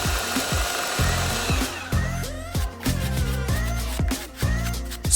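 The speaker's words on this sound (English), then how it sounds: "Sand the rings into shape." A power sander whines and buzzes in short repeated bursts, pausing briefly between passes as it grinds rings into shape, close and loud.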